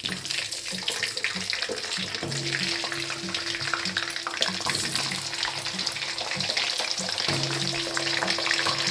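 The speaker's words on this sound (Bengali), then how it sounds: "আলুটা ভাজা হতে হতে আমার ফোড়নটা আরও সুন্দরভাবে ভাজা হয়ে যাবে" Potato pieces fry in hot oil with whole tempering spices for a mutton curry, giving a continuous close crackling sizzle that runs steadily throughout, with faint stirring and no talking.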